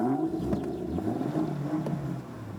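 A 2016 BMW M2 engine rumbles and revs steadily, a deep, loud growl with rising and falling pitch, no voices over it.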